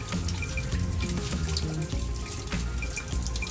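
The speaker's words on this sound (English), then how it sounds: "It's like a little creek on our front step." Rainwater runs down a front step like a small creek after a storm during a tornado watch, a steady close rushing and trickling flow that carries on throughout with no voices.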